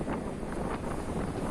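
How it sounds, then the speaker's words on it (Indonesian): Strong crosswind buffets a motorbike rider on the road from Jombang to Nganjuk, a dense, constant roaring rumble of wind against the microphone with slight gusting swells, loud and close with no other sounds standing out. "kenceng banget anginnya."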